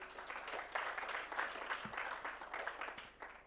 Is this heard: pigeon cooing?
no